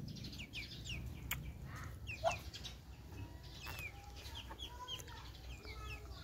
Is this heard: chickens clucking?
yes